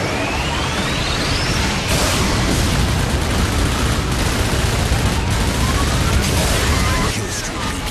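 Mega Guns firing in the car-combat game Twisted Metal on PS3, a continuous loud rattle of rapid shots mixed with booms and whooshing projectiles, heavy and sustained across the whole stretch, with a game announcer voice speaking over it.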